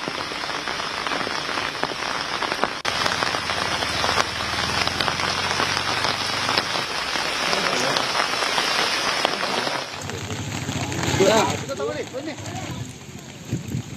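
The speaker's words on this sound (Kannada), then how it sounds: "ರಾಜ್ಯದ ಹಲವೆಡೆ ಧಾರಾಕಾರ ಮಳೆಯಾಗ್ತಾ ಇದೆ" Heavy monsoon rain pours down in Karnataka as a dense, continuous hiss of drops on surfaces, with the texture shifting partway through and a possible voice faintly underneath.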